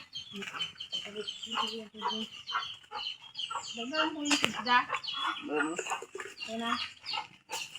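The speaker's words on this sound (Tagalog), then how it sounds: "Ito yung manok ko, ma. May sisiw." Chickens, including a hen with chicks, cluck and squawk close by, with a voice or two mixed in among the birds.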